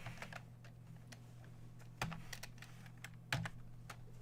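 Typing on a computer keyboard during a live card-break session: steady, close clicking keystrokes with a few sharper, louder presses and a constant low electrical hum underneath, no talk.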